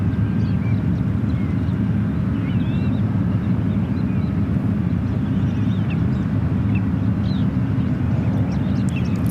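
A 24-year-old Boeing 777-200ER airliner at SFO produces a loud, continuous low engine roar with wind buffeting, steady from start to finish, with faint bird calls above it.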